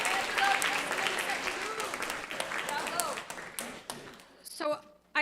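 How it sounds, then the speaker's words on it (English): An audience at a school assembly for grades 9 and 10 gives steady applause that fades near the end. A brief voice comes through at the close. "Can we get a big round of applause for our 9th grade Outstanding Scholars?"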